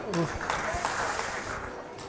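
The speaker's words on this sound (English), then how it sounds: "I'm not sure what they're clapping at" Scattered clapping ripples through the crowd at a professional darts match at the UK Open, light and brief beneath a commentator speaking over it.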